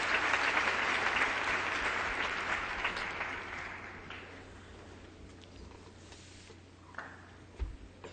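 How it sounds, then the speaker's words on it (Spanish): Audience applause welcoming a debater at a public debate, a broad burst of clapping that starts strong and gradually thins and fades, with a few scattered claps lingering at the end. "Let's give him a one round of applause"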